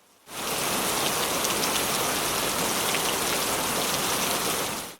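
Steady rain falls in a dense, even hiss, fading in at the start and holding at moderate loudness with no voices, like a rainy night on a dark road.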